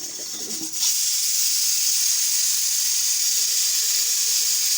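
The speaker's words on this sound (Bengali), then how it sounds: "মেয়ের মাংস বসিয়েছি প্রেশার কুকারে" A pressure cooker with chicken meat inside vents a loud, steady high hiss of steam that starts abruptly after a brief quieter moment and then holds without a break.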